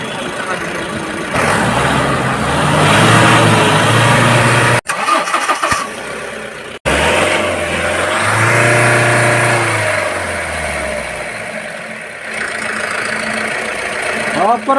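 A Mahindra Bolero BS6 pickup engine, freshly repaired for a misfire and loading fault, revs up and settles back repeatedly, running smoothly with no cutting out and loud at close range, while someone talks over it.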